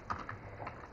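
Keys tapped on a computer keyboard while writing Python code, a few quick, light clicks spread irregularly over a second against a quiet background, with no voice.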